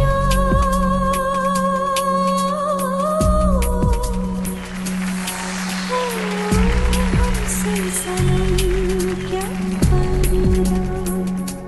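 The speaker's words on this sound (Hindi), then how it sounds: "बाहर बारिश हो रही है" Steady rain falls outside in a domestic setting, a continuous wash of patter under a loud music track with strong bass and sustained tones, which dominate the mix throughout.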